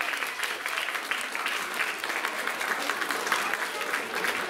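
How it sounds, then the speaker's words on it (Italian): An audience applauds steadily for Davide at a gathering, a dense, even wash of clapping hands that holds for the whole stretch without pause, with faint murmurs mixed in. "fategli un applauso"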